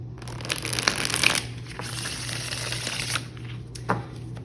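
Close, crisp riffling of tarot cards being shuffled, with a few bursts of flapping and tapping against a quiet background hum.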